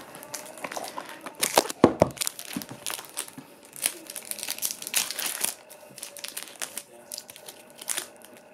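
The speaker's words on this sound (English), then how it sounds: "let's get into opening these cards" Foil wrappers on Teenage Mutant Ninja Turtles collectable card packs crinkle and tear close up. The rustling is continuous and irregular, with a few louder crackling bursts.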